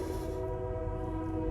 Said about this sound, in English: I got a train going by